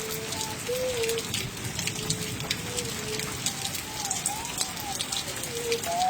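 Steady monsoon rain falls in the sawan season around Wah Cantt, Pakistan, a dense continuous patter with faint birdsong chirps threading over it throughout.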